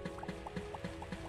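Tar water in the Starbound video game, heard as a quick run of soft, evenly spaced liquid blips and drips over a faint hum, quiet and brief.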